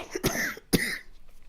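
Two sharp, close coughs about half a second apart, each with a rough, breathy tail, in an otherwise quiet room.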